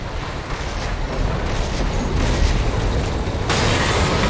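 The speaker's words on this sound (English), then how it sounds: "Use your mobility in the air to get clear of explosions on the ground." Dense rumbling explosions and booming blasts from combat in the video game Armored Core VI, loud and continuous with no talk, swelling brighter and harsher toward the end.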